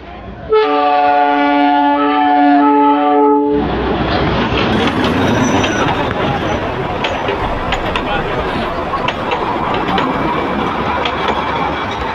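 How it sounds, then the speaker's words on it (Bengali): The Darjeeling toy train passes close by at Batasia Loop. A loud, steady horn blast of about three seconds cuts off into a continuous nearby rumble and rattle of the rolling train. "বাতাসিয়া লুপের সামনে আপনাদের ট্রেনকে দেখিয়ে দিই, যে টয় ট্রেন যে কত সামনে দিয়ে যাচ্ছে"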